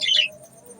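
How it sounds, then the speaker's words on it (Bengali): Caged birds being fed call out loudly indoors, a single bright chirp or squawk close by, brief and clear over a low background hum. "পাখিগুলো খুব ডাকাডাকি করতেছে"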